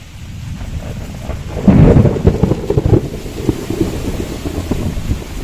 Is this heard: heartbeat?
no